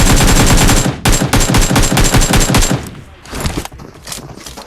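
Rapid bursts of automatic gunfire crackle loudly from a PUBG Mobile match, dense rattling volleys for nearly three seconds, then a few scattered shots trailing off, with no talk over them.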